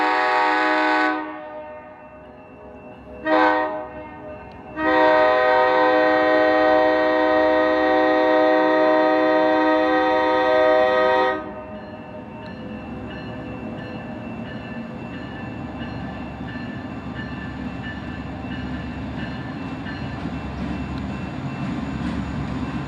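A steam train's horn blows in short then long loud blasts near the Grand Canyon, followed by steady rumbling of the train rolling along with no talking.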